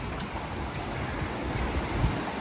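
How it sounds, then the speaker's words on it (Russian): Black Sea waves surge and break on a wild beach near Sochi, a steady broadband wash of surf with low thumps of water, close and fairly loud with no voices. "Вот видите, волна пошла шик."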